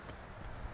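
Horse hooves beat on the soft footing of a riding arena during a training session, quiet distant thuds with a galloping rhythm under faint background noise.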